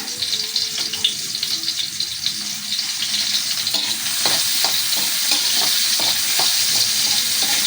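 Chopped onion sizzles and crackles in hot oil in a frying pan for a home-cooked menudo, a constant close frying hiss with soft stirring scrapes and clicks and no talking.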